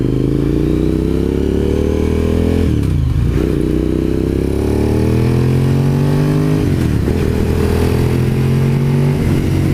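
A Suzuki SV1000S fitted with a Danmoto JISU muffler rides down the road, its loud engine note climbing steadily through the revs with two gear shifts breaking the pitch before it pulls again.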